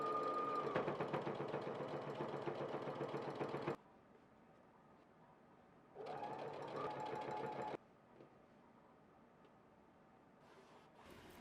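Sewing machine running close up as it stitches folded four-layer fabric binding for scrap bunting, two steady rhythmic whirring bursts separated by quiet pauses.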